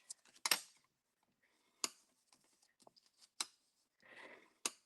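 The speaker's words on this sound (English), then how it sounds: "So I'm going to fold and burnish." Paper being folded and burnished for a box divider, with sparse crisp creases, taps and short rubbing swipes close up, separated by quiet gaps.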